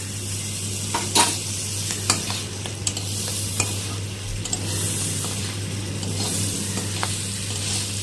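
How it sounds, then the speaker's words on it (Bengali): A bread slice fries in a pan with a steady, moderately quiet sizzle, sprinkled with small crackling pops and an occasional light tap, alone without talking. "এখন আমি আর এক পিঠও ভেজে নেব।"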